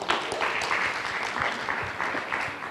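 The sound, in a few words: audience applause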